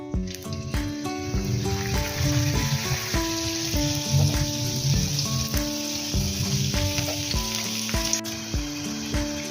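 Homemade spring rolls fry in hot oil over a medium flame, a dense, continuous close sizzle with small bubbling pops that runs unbroken for nearly ten seconds, with a tonal musical backing underneath and no speech.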